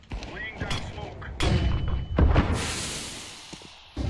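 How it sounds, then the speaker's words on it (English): Grenade and flashbang explosions in Counter-Strike: heavy thuds and booming blasts, one sharp bang followed by a long fizzing hiss, mixed with gameplay noise. "Throwing flashbang. Throwing a grenade."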